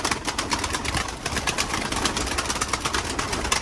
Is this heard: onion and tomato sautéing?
no